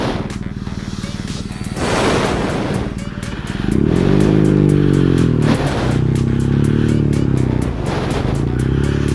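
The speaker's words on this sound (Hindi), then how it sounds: "यहाँ से मोटरसाइकिल को निकालना इतने स्लश में से, और वो भी चढ़ाई पे" A motorcycle engine revs hard and labours while pulling out of slush on an uphill stretch of a mountain road en route to Chitkul, a loud close growl that rises and holds with sputtering surges.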